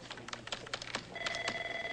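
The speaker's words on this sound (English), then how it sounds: "Don't even think about answering that, Sid." A telephone rings in a TV crime drama, a brief electronic trill beginning after some faint clicks, moderately quiet and alone.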